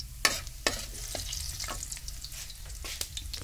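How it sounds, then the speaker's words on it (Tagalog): Shrimp and garlic sauté in hot oil, a steady close sizzle broken by clattering stirs of a utensil against the pan, with no talking. "Gisa lang yung hipon"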